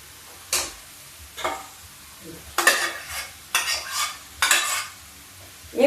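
Cooked rice is stirred into a methi mixture in a pan, giving several separate scraping bursts of a spoon against metal with faint sizzling between them and short pauses.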